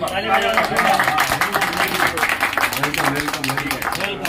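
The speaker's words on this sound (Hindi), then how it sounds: "ताली बजा के" Children clap hands at a pre-school preparation gathering in a Zilla Parishad Urdu school in Dhamangaon Badhe, a dense, steady patter of many small hands that runs throughout, mixed with voices.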